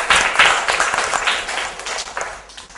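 A fifth-grade classroom breaks into applause for a student after a storytelling turn, a dense patter of many small hands clapping steadily for a few seconds, fairly close and fading slightly toward the end.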